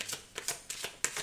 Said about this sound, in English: I want to shuffle another one